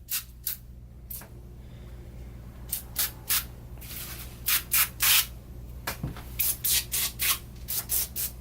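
Degreaser sprayed onto a Dana 21 differential for cleaning before welding: a string of short hissing spray bursts, some quick and some held longer, close by over a low steady hum.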